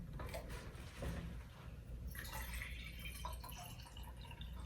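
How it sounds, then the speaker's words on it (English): Water poured into glass jars for a walking water experiment, a steady running, splashing pour that continues for several seconds with brief dripping, fairly close and alone. "We're going to put water into the 2 outside jars."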